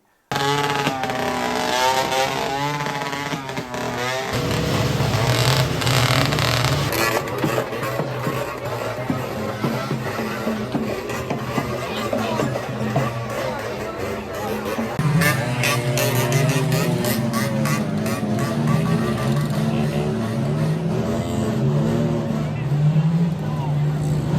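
Motorcycle engines rev loudly and repeatedly at a buffalo race in Kolhapur, rising and falling in pitch over a noisy outdoor crowd, with people talking throughout.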